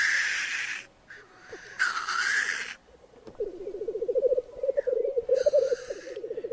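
Black grouse calling: a low, rapid bubbling coo runs in long, evenly pulsed phrases. It is interrupted by loud, breathy hissing bursts, and the sound carries clearly over a quiet outdoor background.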